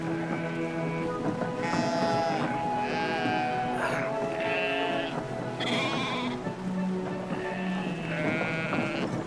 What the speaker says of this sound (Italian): Che bellette le pecore, vero?